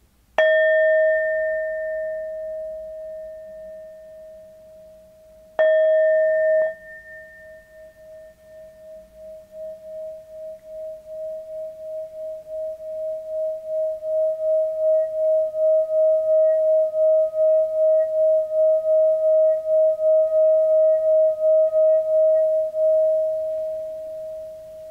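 A Tibetan bell rings twice, each strike giving a clear sustained metallic tone, the second left to ring on with a slow, pulsing shimmer as it fades.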